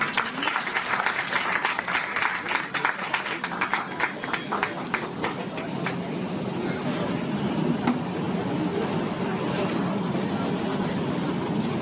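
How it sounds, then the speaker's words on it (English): A crowd applauds at a book launch event with loud, dense clapping that continues throughout, thickened by a low murmur of room noise and movement underneath. "May I have a big round of applause for them?"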